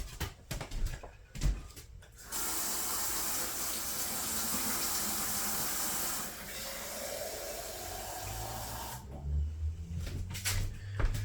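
Water running steadily from a kitchen tap into a mason jar for a sourdough starter, a continuous hiss of several seconds framed by clunks and handling noises before and after.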